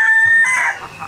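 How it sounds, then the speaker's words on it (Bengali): A rooster crows in a village, a single loud sustained crow that trails off and fades near the end, with no voices. "ওই পাশে মোরগ ডাকছে।"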